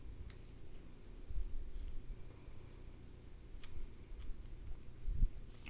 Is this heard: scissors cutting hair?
yes